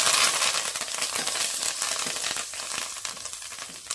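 Curry leaves and asafoetida hit hot oil in a pan, a loud, bright crackling sizzle that spits and pops continuously, fading slightly as it settles, with no talk.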